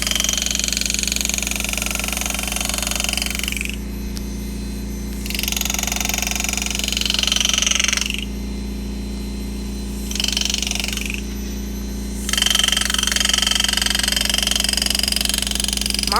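Machine engraving lettering through 1/4 inch aluminum: a loud, rattling, high-pitched cutting whine that runs in several bursts of a few seconds each, broken by short pauses, over a constant low machine hum.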